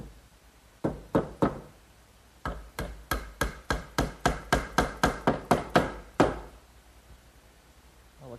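Wooden dowels tapped into holes to join the legs of a handmade writing desk held in clamps: a few sharp knocks, a pause, then a rapid run of about fifteen evenly spaced hammer blows, close and loud.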